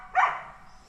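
A dog gives a single sharp bark in a forest setting, close and brief, followed by quiet.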